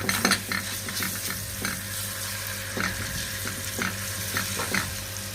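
Garlic and onion sautéing in a pan for a tripe dish, a steady close sizzle broken by repeated spoon-stirring scrapes, with no talk over it.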